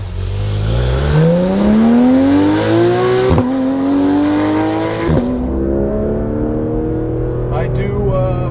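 A Porsche 991 GT3 RS engine in PDK Sport mode with sport exhaust revs hard through the gears, pitch climbing steadily with sharp drops at each upshift, loud and close with a throaty exhaust.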